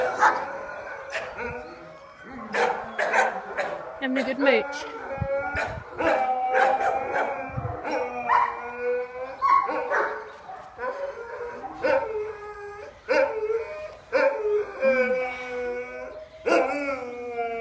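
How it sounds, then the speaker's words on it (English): Several dogs in a rescue kennel bark, yip and howl in overlapping bursts throughout, loud and close with long wavering howls between sharp barks, while a person speaks briefly underneath. "the other dogs in the kennel"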